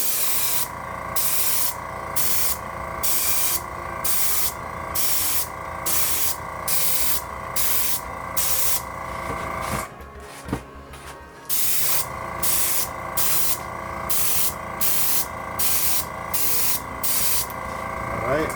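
An airbrush sprays paint onto Nike slides in a steady run of short, evenly spaced hissing bursts, with a brief pause midway, a continuous mechanical hum underneath and a voice talking over parts of it.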